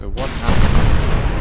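A 14-inch naval gun fires in the warship game Ultimate Admiral: Dreadnoughts, one loud sudden boom that rolls on as a sustained rumble, with a voice speaking briefly over it.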